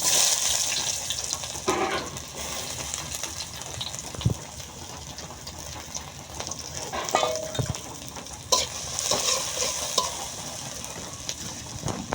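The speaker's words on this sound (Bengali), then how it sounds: "কালো জিরে পেঁয়াজ কুচি আর রসুন কুচি দিয়ে দিবে" Chopped onion, garlic and nigella seeds fry in oil with a soft steady sizzle, broken by occasional clinks and scrapes of stirring.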